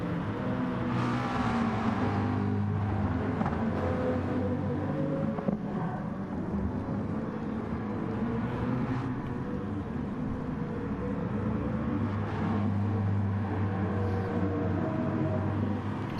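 GT4 race cars, including a Mustang and a McLaren, run on the Catalunya circuit in a racing game, producing a continuous, dense engine roar with overlapping drones that swell and fade as cars pass.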